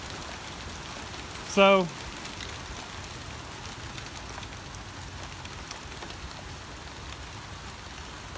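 Steady rain hissing throughout, with a brief spoken word early on and soft patter continuing underneath.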